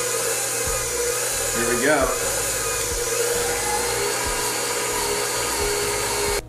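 A stand mixer runs steadily with a dough hook working pumpkin dough, a continuous motor whir with rhythmic low churning throughout, briefly under a short spoken remark.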